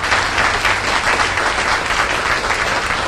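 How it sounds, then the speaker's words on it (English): An audience applauds steadily, a dense, even wash of clapping that stays loud throughout with no voices over it. "We can give them a round of applause for that."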